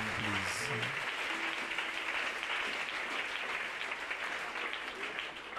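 Church congregation applauding in praise of the Lord, a dense, steady wash of clapping that holds at even loudness throughout, with faint tonal hums beneath.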